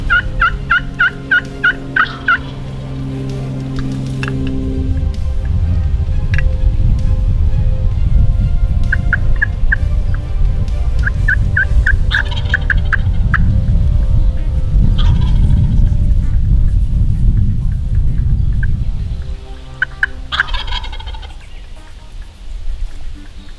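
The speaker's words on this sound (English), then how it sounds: "We got a bird gobbling over here" A wild turkey gobbles in repeated rattling bursts in open country during a late-season hunt, the calls coming at intervals over a steady low rumble of wind or ambient noise, with no talking.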